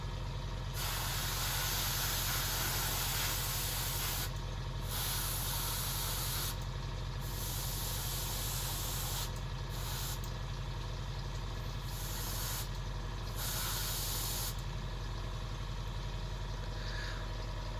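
An air compressor runs steadily and loudly throughout while primer is airbrushed onto BattleTech miniatures, a continuous hiss and low drone broken by brief pauses in the spray.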